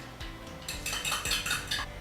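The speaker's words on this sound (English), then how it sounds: "And now I whisk it together." A whisk or fork clinks rapidly against a bowl while eggs and milk are beaten together for scrambled eggs in a kitchen, giving a steady run of close, bright metallic taps.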